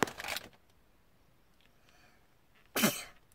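Two sharp sneezes burst out nearby, one at the start and another after a quiet pause of about two seconds.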